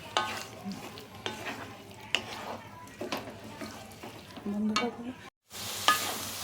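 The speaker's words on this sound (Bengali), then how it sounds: "এগুলোকে পানি দেওয়ার পর ভালো করে একটু কষিয়ে নিতে হবে" Soybean and potato curry stirred and sautéed in a pan after a splash of water, with scraping spoon strokes and a steady soft sizzle, close and alone; a brief dropout near the end.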